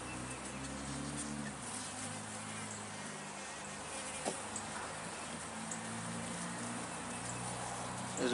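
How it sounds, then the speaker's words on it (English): Honey bees hum in a dense, steady drone at an open beehive with starter strips filled with nectar, close and continuous with no voices. "You notice how the bees are not coming off there"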